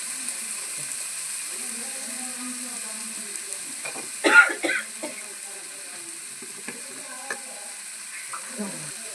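Okra curry with turmeric being stirred in a pan, a steady low sizzle under scattered scraping strokes, with one louder cluster of spoon-against-pan clatter near the middle.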